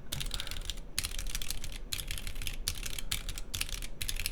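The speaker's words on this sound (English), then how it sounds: "this backspace is rattly as hell" Rapid typing clatters on a mechanical keyboard with a rattly backspace key, in quick bursts of keystrokes separated by brief pauses, close and clear, with no voices.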